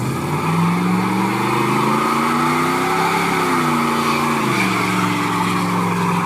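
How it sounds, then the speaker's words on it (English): A car engine revs hard and steady at high pitch during a burnout, rising and dipping slightly, loud and continuous with a rough tire-spinning noise underneath. "the car sounds pretty nice"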